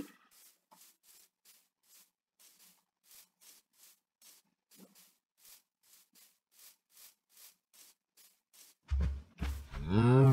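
Farm cattle lowing in a video game world, a long run of soft, evenly spaced faint calls from a distance, followed near the end by a sudden loud, close rumbling burst.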